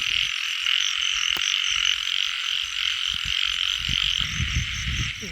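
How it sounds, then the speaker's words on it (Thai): Dense chorus of frogs croaking steadily in a rice field at night, layered over a constant high insect buzz, with some lower croaks nearby toward the end. "เสียงร้องกบ"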